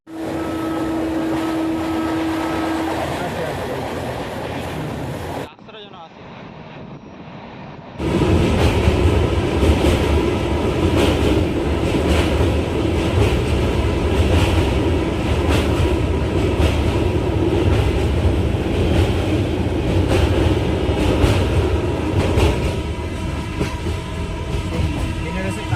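A passenger train on the Howrah to New Delhi route rumbles along steadily, with a loud continuous roar of wheels on rails; a brief quieter stretch gives way to louder running noise, with faint voices now and then.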